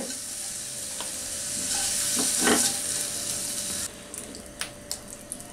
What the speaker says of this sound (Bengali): চিংড়ি মাছটা চুলাটা কমাই দিই, চিংড়ি মাছগুলোকে ভেজে আমি এগুলোকে এখন উঠাই নিব